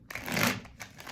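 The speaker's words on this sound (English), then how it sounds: "This shuffling for the people who love the sound" Tarot cards being shuffled at a table, a brief riffling burst that swells and fades, then a few lighter flicks, close and fairly quiet with no voices.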